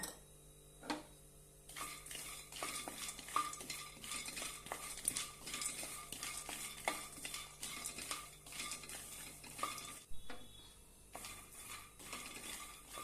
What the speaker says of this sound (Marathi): कढईमध्ये शेंगदाणे भाजून घेऊया